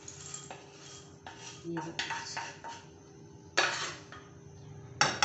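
Roasted chickpeas tipped from a pan into a bowl, with a few close, bright clinks and scrapes of utensils against dishes between brief bits of talk.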